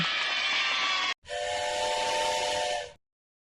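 Steam-style train whistle in a children's English letters matching game, two loud sustained hissy blasts with a short gap between them, heard alone.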